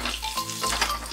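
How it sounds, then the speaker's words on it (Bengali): Chopped onion frying in hot oil with torn bay leaves, cumin and dried chilli for a Bengali arum spinach dish, a steady close sizzle with faint stirring, no talk. "একই সাথে পেঁয়াজ কুচি দিয়ে হালকা করে ভেজে নেব"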